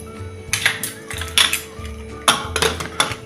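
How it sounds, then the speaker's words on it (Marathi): A metal lid being fitted onto a pressure cooker in a kitchen while mutton cooks, with several sharp clanks and rattles of metal on metal in quick, uneven bursts, close and fairly loud. "आता झाकण बस बसवूया आपण आणि हे चांगलं शिजवून घेऊया"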